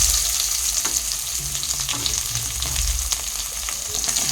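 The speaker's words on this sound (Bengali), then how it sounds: "তো পেঁয়াজগুলো আমি ভালো করে ফ্রাই করে নিচ্ছি।" Chopped onions frying in hot oil with browned garlic for chilli chicken, giving a steady, close, dense sizzle throughout with faint stirring ticks.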